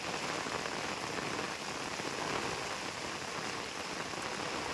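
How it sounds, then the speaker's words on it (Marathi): A steady downpour drums on surfaces nearby on a farm field in Konkan, loud and unbroken, with no talking. "आणि खूप जोरात पाऊस आलाय"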